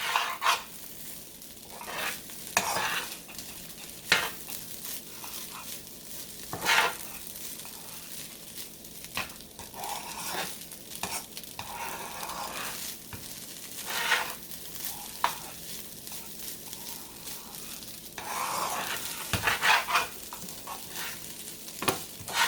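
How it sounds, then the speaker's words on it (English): Vegan fried rice with soy sauce frying in a pan, a soft continuous sizzle broken by repeated scraping stirs and clacks of a utensil against the pan, fairly quiet and close. "just go ahead and cook it a little bit longer, you know, once the soy sauce has been added in"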